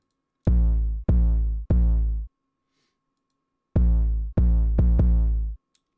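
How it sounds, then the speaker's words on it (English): Deep, booming 808 bass notes, three in a row, a pause, then three more in quicker succession. Each has a strong low tone that fades slightly. "super simple pattern throughout the entire 808."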